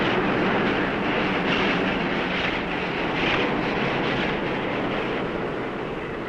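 A train from the 1964 film The Train, hauling a cargo of French art treasures, rumbles steadily and loudly for several seconds as a broad, continuous roar with faint rhythmic clatter and no voices.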